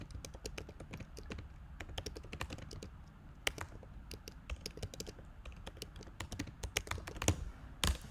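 Typing on a computer keyboard while writing in a Jupyter notebook, quiet irregular runs of crisp key taps with short pauses and a few louder strokes near the end.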